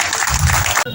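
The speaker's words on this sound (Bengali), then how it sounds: "তার জন্য একবার জোর করে হাততালি হওয়া উচিত" An audience at a Trinamool Congress foundation day rally claps loudly for under a second before the clapping cuts off abruptly, with a voice mixed in.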